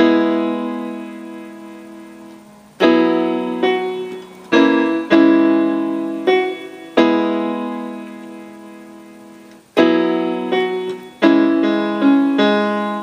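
Piano repeats a song's middle eight, slow two-handed chords struck and left to ring out with long decays, close and clear, with no singing or talk.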